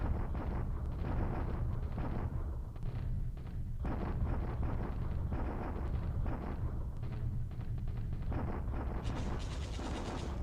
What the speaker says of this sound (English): I hear the machine guns firing in the night